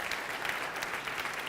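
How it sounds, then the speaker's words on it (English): Conference audience applauding, a continuous even wash of clapping heard from a distance, moderately quiet and without talk. "a round of applause for Robert."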